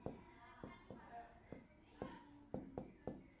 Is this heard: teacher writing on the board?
yes